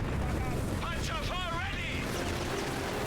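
Stuka loiter air strike in the Company of Heroes 3 strategy game, with continuous heavy rumbling explosions and a wavering, wailing dive tone rising over the blasts.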